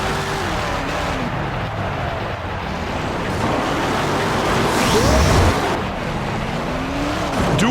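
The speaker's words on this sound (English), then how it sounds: "Doing what monster trucks do best, crushing cars." Engine roar and revving from a Grave Digger monster truck in the Monster Jam: Urban Assault World Series on Nintendo Wii, with tire scrapes and pitch sweeps as it crushes cars; loud and continuous, no talk.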